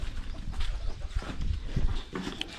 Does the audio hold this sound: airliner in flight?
no